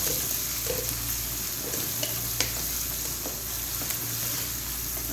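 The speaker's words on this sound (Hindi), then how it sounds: "बस अब थोड़ा सा प्याज को मैं फ्राई करूँगी" Onions fry in leftover oil in a kadhai for a chicken tikka pulao, giving a steady, close sizzle that runs throughout with faint stirring scrapes and no talk.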